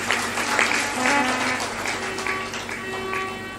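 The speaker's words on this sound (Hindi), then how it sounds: "इनके लिए ताली बजा दो, खुश हो जाएंगे।" An audience at a spiritual discourse claps together, a loud, sustained patter of many hands with a faint tonal hum underneath.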